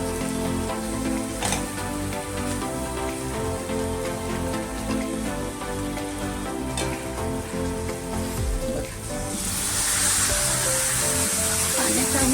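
Thinned curd hits a hot pan for sukha pithla, and a steady frying crackle runs under background sound before the sizzle swells into a bright, louder hiss near the end.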